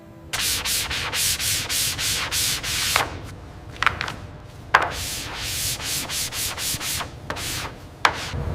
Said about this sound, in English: The final sanding phase uses a finer grit